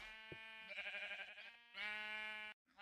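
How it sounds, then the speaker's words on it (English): Repeated sheep bleats from Minecraft, several cries overlapping and close, some long and wavering, set against a steady synthetic game background tone. "Oh, can you hear the sheep?"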